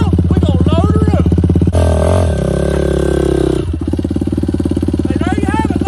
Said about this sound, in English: The ATV is now loaded up on my toy haul.